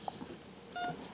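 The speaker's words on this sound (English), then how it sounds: "It's beeping now." A single short electronic beep from a children's hospital hearing test sounds faintly over quiet background noise.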